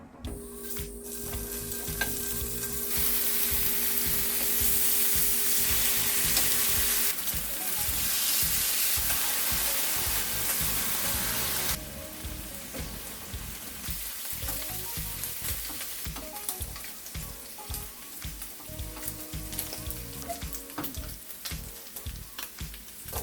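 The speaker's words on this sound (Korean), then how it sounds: "이렇게 정확히 삼겹살 600g 다 구웠는데" About 600 g of pork belly fries in a pan, a loud continuous sizzle and crackle with bursts of spattering and occasional stirring scrapes, steady throughout with no talking.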